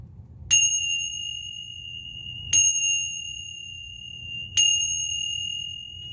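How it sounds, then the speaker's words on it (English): A Tibetan bell rings three times at roughly two-second intervals. Each strike is bright and clear, with a pure ringing tone that lingers and fades before the next. "We're going to use a Tibetan bell to clear the area for peace."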